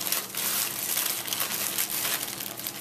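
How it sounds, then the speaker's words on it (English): Close, steady crinkling of a plastic bag as bread dough is put inside, continuous rustling and crackling without pauses, nobody speaking. "Now I'm putting the dough in a plastic bag."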